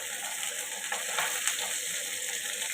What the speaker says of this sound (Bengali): মাছটা একটু ফ্রাই করে নিয়েছি।